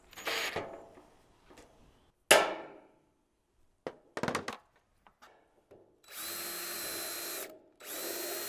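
A power drill bores holes in a rain gutter for planters, short taps and clanks first, then two sustained loud whirring drill runs near the end.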